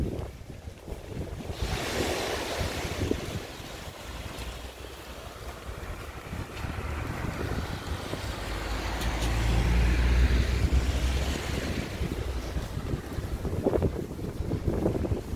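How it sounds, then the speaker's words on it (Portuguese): Strong wind buffets the microphone on the beach at Balneário Camboriú, with rushing gusts that swell and ease over about fifteen seconds and surf rumbling underneath. "Nossa, aqui é uma corrente de vento"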